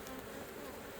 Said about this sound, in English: Look at all them bees up there on the top.